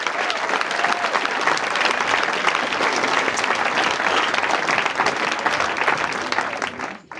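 Sustained applause from a live science slam audience greeting a speaker after his talk, dense and steady for about seven seconds before tapering off at the end, with no talk over it.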